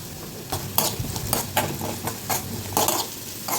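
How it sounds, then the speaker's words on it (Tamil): Onions sautéing in hot oil with curry leaves and salt, a close, bright sizzle broken by repeated bursts of spoon-stirring and pan scraping in an irregular rhythm, no voices. "வெங்காயத்தை நல்லா வதக்கிக்கலாம்"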